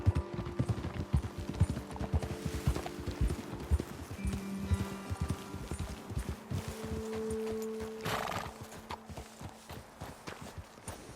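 In Red Dead Redemption 2, horse hooves clip-clop steadily at a walking pace, fairly close, with some rustling and faint tonal hums in the background.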